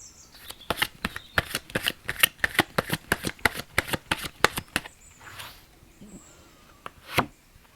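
Tarot cards being shuffled by hand, a quick run of crisp riffling flicks in steady rhythm, close and clear, followed by a few softer card slides and one last flick.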